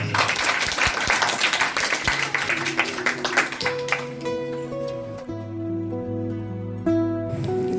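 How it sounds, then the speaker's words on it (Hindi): Applause rings out for a few seconds, then fades as sustained musical tones take over. "इस गीत के बाद बधाई देना चाहता हूँ, जोरदार तालियों से।"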